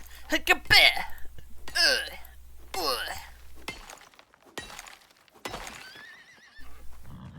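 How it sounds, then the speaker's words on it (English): A horse in a video game whinnies sharply several times in quick bursts, mixed with thuds and clatter, while a person talks excitedly over it. "Very angry horse!"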